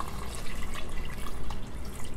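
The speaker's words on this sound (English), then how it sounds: "Gonna add some more water." Water streams steadily into a pot during plant-based meal prep alongside vegetable broth, a continuous close splashing pour filling the whole stretch with no talk.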